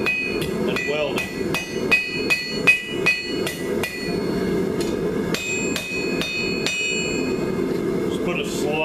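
A hammer strikes hot steel while forging a fire poker tip, a steady series of sharp ringing blows at a regular pace, close by and clear, with short pauses between strikes.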